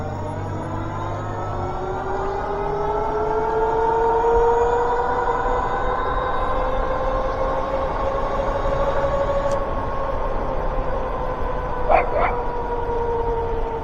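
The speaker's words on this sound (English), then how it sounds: "I think that dog remembered me from last time." A dog barks and yips in a residential neighborhood during an electric bike ride, heard at a distance over steady wind and road noise, with a louder burst near the end.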